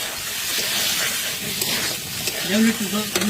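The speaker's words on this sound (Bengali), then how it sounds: "চিকেনটাকে অবশ্যই এইভাবে নেড়ে চেড়ে কষাতে হবে যেন কোনোভাবেই কড়াইয়ের তলায় লেগে না যায়" Chicken being stirred and sautéed in a wok as a curry for a picnic menu, with a steady sizzle and hiss under scraping and stirring, louder clatters near the end.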